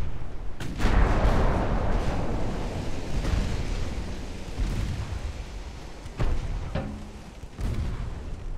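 Warship naval guns fire in the game Ultimate Admiral Dreadnoughts: heavy booming salvos with rumbling tails, one big blast early and several sharper reports later, loud and close over a low sea-like wash.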